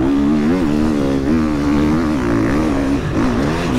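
An enduro motorcycle, a 350, labours through deep sand on the beach course of the Enduro du Touquet, its close, loud engine droning steadily with rising and falling revs and no pauses.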